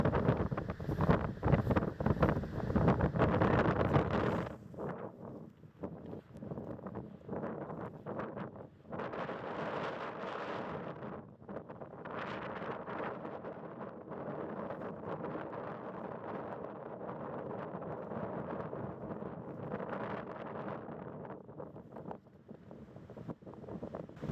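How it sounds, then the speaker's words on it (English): Strong wind at a lake buffets the microphone in loud, uneven gusts, heaviest at the start and then swelling and easing in waves, with no voices. "See how much wind there is. You hear it in the camera or microphones."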